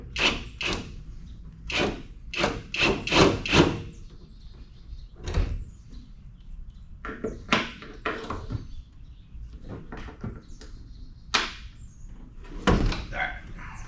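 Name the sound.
removing the door of a 1971 Firebird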